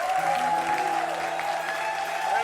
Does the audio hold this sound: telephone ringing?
no